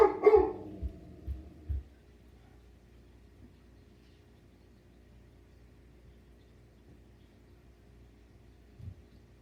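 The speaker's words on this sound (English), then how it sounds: "while I try to get my dog to stop barking" A dog barks several times up close at the start, a few sharp yelps in quick succession, then the room falls nearly silent apart from one faint sound near the end.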